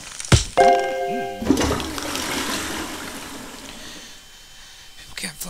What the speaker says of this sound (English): People can't flush their own toilet.